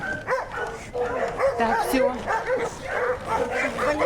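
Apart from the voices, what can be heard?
dogs barking and whimpering at a shelter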